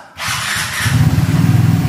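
A Vespa GTS scooter engine starts up close: a brief starter whir gives way to a loud idling putter that pulses steadily and evenly.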